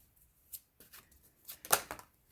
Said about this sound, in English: put these back and shuffle some more